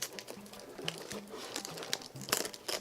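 Paper or plastic crinkles and rustles as a cut strip is peeled away while making a DIY jellyfish lantern, with close, irregular crackling bursts and no talk.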